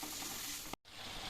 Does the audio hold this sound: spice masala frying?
yes